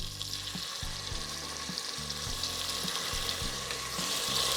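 Onions sizzle in a pan, a steady close frying crackle laid over repeated low scraping and stirring strokes against the pan in an uneven rhythm, with no voices.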